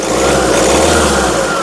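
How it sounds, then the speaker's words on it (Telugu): Engine of a 2017 Hyundai Creta SX running steadily, a loud close rumbling drone with a slight rise in pitch, held briefly without voices. "ఇంజన్ నాయిస్ కూడా పర్ఫెక్ట్గా అయితే ఉందండి."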